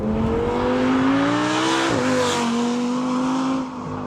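A 5.2-liter V10 engine in a 2014 Audi R8 V10 Plus revs hard and loud, its pitch climbing steadily, dipping briefly, then rising again before easing off near the end.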